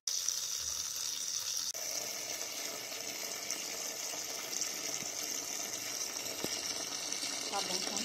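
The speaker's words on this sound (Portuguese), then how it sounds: "Aqui eu já coloquei dentro da panela de pressão e agora eu vou colocar água." Water runs steadily from a tap into a pressure cooker holding beans, a constant bright gushing stream that starts abruptly and continues with small splashes near the end.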